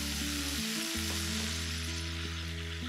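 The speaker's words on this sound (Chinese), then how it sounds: "炒出香味以后，放入西红柿翻炒。" Tomatoes stir-fried in hot oil with scallion and ginger, the base for a noodle-dumpling soup, give a strong, steady sizzle with a brief dip near the start, close and continuous with no talking.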